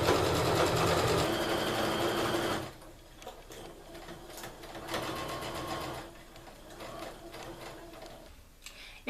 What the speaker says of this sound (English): I'm going to sew a 1/4 inch seam along all the sides except for the wrist